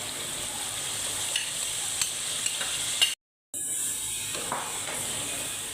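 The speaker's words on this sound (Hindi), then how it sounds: "अब हम इसके अंदर टमाटर का जो जूस निकाला हुआ है हमने वो ऐड कर देंगे" Spices and tomato juice frying in a pan for achar gosht, a steady close sizzle with light stirring clicks, cut by a brief dropout before the sizzle resumes, no talk.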